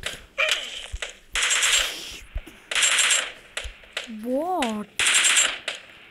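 Video game gunfire ends in a headshot: several loud bursts of rapid automatic shots separated by short pauses, close and punchy, with a short rising electronic tone between bursts and a voice speaking briefly.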